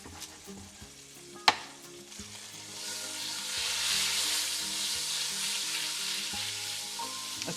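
Garlic sizzles and browns in a hot pan for a quick keto lunch, a steady frying hiss with stirring scrapes and a sharp clack early on, the sizzle swelling louder midway.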